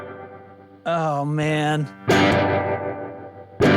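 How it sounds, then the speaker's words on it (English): A guitar amplifier in tremolo-plus-reverb mode, voiced as a Fullerton, California black panel vibrato channel reverb, plays pulsing sustained notes and then a bright strummed chord that rings out with a reverb tail, over a brief spoken exclamation. "So let's throw it into tremaverb mode."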